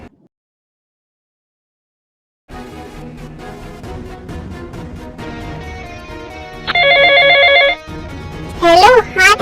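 An outgoing phone call sounds after a moment of silence: a repeated electronic ringback tone over a background music bed, then a brighter ringtone melody that stops before a short burst of sound near the end.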